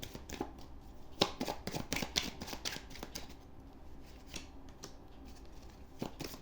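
Tarot cards shuffled and drawn from the deck, giving a run of quick, close papery flicks and light slaps in an irregular rhythm, with no talk over them.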